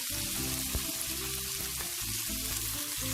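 Chicken gizzards and celery stir-fry in a wok with a steady, dense sizzle and occasional scrapes of stirring, close and continuous throughout.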